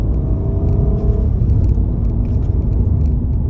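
A car with a CVT transmission driven at half throttle gives a steady, loud engine drone and road rumble from inside the cabin, with faint clicks over it.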